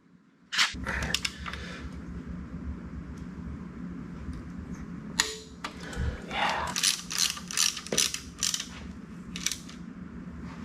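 Ratchet wrench clicking as new bolts are tightened during engine reassembly on a 2007 Mini Cooper, with timing chain and head gasket work; close, sharp bursts of ratcheting clicks in irregular runs over a low mechanical hum.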